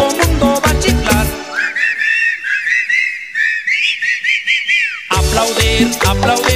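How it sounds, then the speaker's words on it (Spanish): A tropical cumbia dance song drops its band for a stretch of group whistling, a bright wavering melodic whistle carried over a steady rhythmic beat, before the full loud instrumentation returns. "todo mundo va a chiflar."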